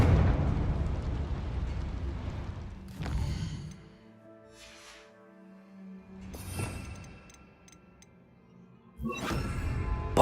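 Fiery explosions from the Confringo fire spell in Hogwarts Legacy: a rumbling blast fading out, then sharp bursts around three and six seconds, and another loud blast at the end, with no talking.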